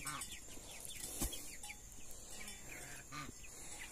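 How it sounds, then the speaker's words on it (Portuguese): Chicks and guinea fowl forage for green grass and scraps on a farm, clucking and peeping softly in a steady, scattered chatter at close range, with no talk over them. "Eu comprei 10 pintos e 10 capotes."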